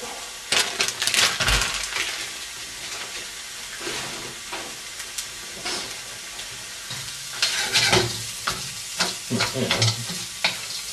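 Minced meat sizzles in a pot for a one-pot chilli while a utensil stirs and scrapes it, giving irregular clatters over a steady frying hiss, close and fairly loud.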